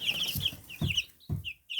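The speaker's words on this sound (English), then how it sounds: "Here's the other rooster, I believe." A rooster clucks in short, close bursts, three low throaty clucks mixed with higher chirping calls from other birds nearby, with no talking.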